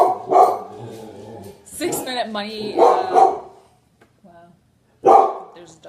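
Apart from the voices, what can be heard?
dog barking outside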